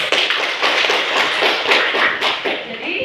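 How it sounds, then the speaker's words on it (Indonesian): A classroom of students bursts into applause, a dense burst of many hands clapping close by that carries on steadily with small swells, with a voice faintly underneath. "Tepuk tangan dulu."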